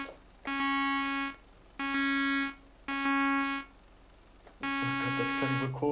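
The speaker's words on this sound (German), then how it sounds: "das sind unsere beiden Hupen hier" Truck horns on a Mercedes-Benz New Actros in Euro Truck Simulator blare in three evenly spaced, steady harmonic blasts, followed by a longer fourth blast where a second, lower horn joins in.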